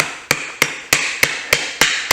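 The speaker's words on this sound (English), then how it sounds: "if you hammer it, I'm just going to go ahead and do this right now with this little ball peen." A small ball peen hammer striking thin copper sheet while shaping leaves, seven sharp metallic taps at an even steady rhythm, close and clear with a ringing tail after each blow.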